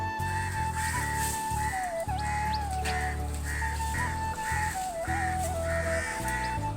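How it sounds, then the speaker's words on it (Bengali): Several crows caw repeatedly in a quick, uneven series around a man climbing a coconut tree to pick coconuts, over a steady low droning hum in the background. "কতগুলো কাক ডাকাডাকি করছে"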